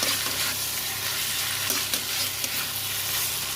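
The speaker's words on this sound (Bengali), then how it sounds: "3খানা টমেটো আমি কুচিয়ে দিয়ে দিলাম। ভালো করে এটা কষিয়ে নিতে হবে।" Chopped tomatoes for a potato paneer curry sauté in a hot pan, giving a loud, continuous close-up sizzle and crackle with light stirring throughout and no talking.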